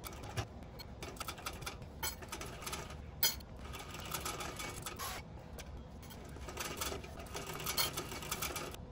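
A sewing machine runs a joining stitch at 3.5 stitch length down the side seam of a bag, a fairly quiet, continuous mechanical whir with small ticks and brief pauses throughout.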